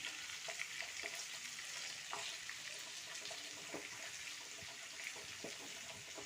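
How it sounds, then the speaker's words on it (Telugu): Stuffed eggplants frying in a pan give a steady, fairly quiet hiss and sizzle, broken by soft scrapes and clicks as they are turned over one by one. "ఒకసారి వంకాయలన్నీ ఇలా తిప్పుకుందాం"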